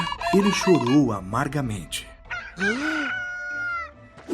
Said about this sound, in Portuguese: Quando ouviu o galo cantar